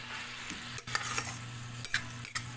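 Meat cooked down with tomato and onion being stirred in a frying pan, a steady close sizzle with scraping stir strokes through the whole stretch and no talking.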